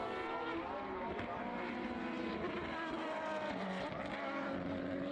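A 3.5 litre Dallara single-seater race car lapping a circuit in an Irish Formula BOSS championship round, its engine droning steadily at a distance throughout with no break.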